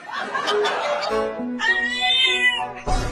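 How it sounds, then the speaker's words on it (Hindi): A small kitten meows in a high, rising cry that lasts over a second, close and clear. Shorter squeaky sounds come before it, and another brief cry starts at the end. "वो छोटी बिल्ली अभी अभी बोली"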